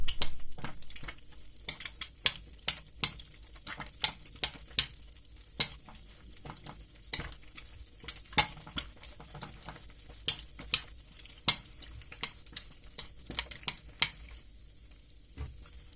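A spoon stirs yogurt and olive oil with rapid, sharp clinks against a bowl while eggs cook in a pan nearby, the tapping repeating unevenly over a soft, continuous background hiss.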